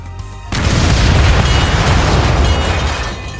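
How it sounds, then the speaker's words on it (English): A missile explosion in Front Mission 2 Remake erupts suddenly as a loud, close boom, then rolls on as a dense rumbling blast that slowly fades, with no talk over it. "Dude, how many missiles does this thing have?"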